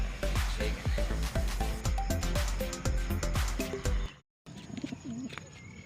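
Homing pigeons being released for training give soft cooing calls and quick fluttering bursts, fairly close, before a brief moment of near silence and then a few quieter calls.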